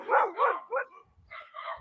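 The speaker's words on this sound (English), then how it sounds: "all the dogs are barking" Several dogs barking outdoors near a bus route, a burst of overlapping barks followed by a short pause and more barking, fairly close and loud with no talk over it.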